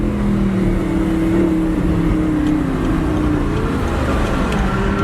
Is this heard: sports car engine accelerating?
yes